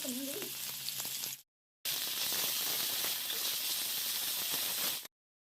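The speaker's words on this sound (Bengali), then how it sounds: "এবার আমি সব সবজিগুলো ফ্রাই করে নেব" Carrots frying in a pan for Bengali-style fried rice give a steady, loud sizzle with a brief gap partway, the hiss resuming strongly and cutting off abruptly.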